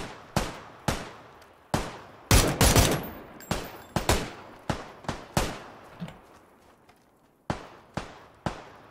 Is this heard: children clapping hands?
no